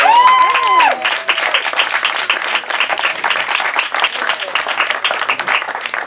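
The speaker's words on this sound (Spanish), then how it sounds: "A la percusión, Miguel El Nene, un aplauso para él." Audience applause at a flamenco dinner show in a restaurant, a loud, dense burst of clapping that follows a brief sung or shouted vocal phrase and carries on steadily.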